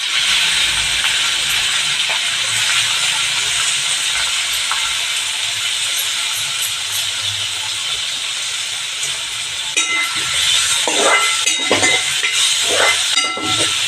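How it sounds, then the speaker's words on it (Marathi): Finely chopped onion tipped into hot oil already tempered with mustard seeds and cumin, a loud steady sizzle and hiss throughout, with clattering and bursts of crackle toward the end as it is stirred. "मी बारीक कांदा चिरून घेतला आहे चॉपरवर तो हा कांदा घालणार आहे"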